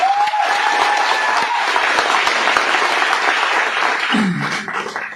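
Loud, sustained applause from a large audience at an NSS camp gathering at IGU Meerpur, dense clapping filling the whole span before tapering near the end, with a brief voice emerging under it.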